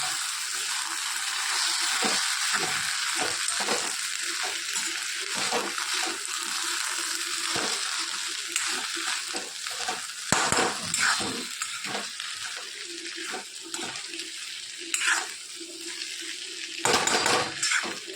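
Boiled potatoes are stirred in an iron kadai: a steady, close sizzle with repeated metallic scraping and clinks from the spoon against the pan, continuing without pause.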